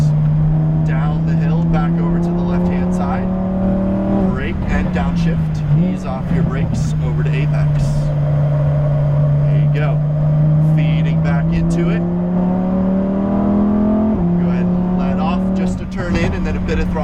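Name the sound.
Lamborghini Huracan Performante engine driving on a race track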